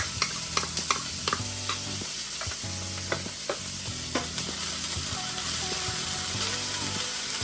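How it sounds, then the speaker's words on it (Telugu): Green capsicum and green chilli tossed and stirred in hot oil for a Veg Manchurian, giving a steady sizzle with frequent scraping and clattering strokes of a spatula against the pan. "ఇవన్నీ ఒక 10 సెకండ్స్ పాటు వేడి నూనెలో టాస్ చేయాలి మనం."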